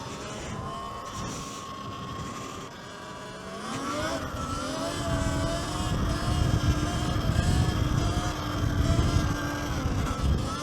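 A gas dirt bike engine drones steadily while riding, a continuous buzzing roar that swells and rises in pitch partway through, with wind rumble and no voices.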